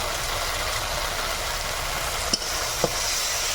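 Mustard-poppy paste and chili powder go into tomato sizzling in a pan, giving a steady close hiss with two brief clinks from a spoon near the end.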